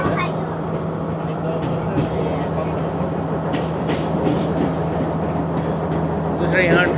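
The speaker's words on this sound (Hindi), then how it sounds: "ट्रेन का नाम ही स्लो ट्रेन है, तो ये ज़्यादा हाई स्पीड में तो चलेगी नहीं।" Slow passenger train on Sri Lanka Railways between Colombo and Gampaha, a steady rolling rumble with a low hum and intermittent rattles and squeaks from inside the carriage, while a person talks over it.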